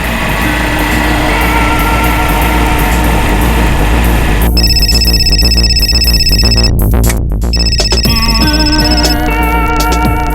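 A telephone rings at night, with loud repeated electronic trills in two bursts over a dense, steady bed of music.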